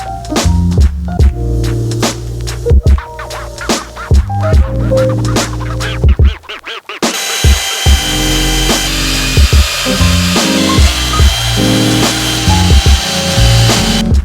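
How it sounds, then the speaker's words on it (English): A power drill drives self-tapping screws into carbon fiber side skirts on a BMW M2, with loud, rapid bursts of whirring and grinding, short pulses stopping and starting, then a longer continuous high whine toward the end. "we'll use some of these self-tapping screws that I have in here and smoke some holes"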